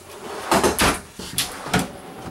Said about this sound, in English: then here you have some nice sized drawers here that come all the way out